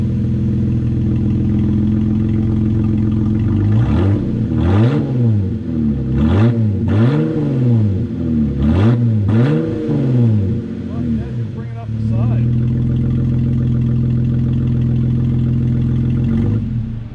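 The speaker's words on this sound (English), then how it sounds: "So on the last couple revs, I actually tried to give it more gas." A 2020 Jeep Wrangler JLUR with a K&N exhaust revs repeatedly, rising and falling in a series of quick throttle blips over a steady idle, then settling back to a loud rumbling idle.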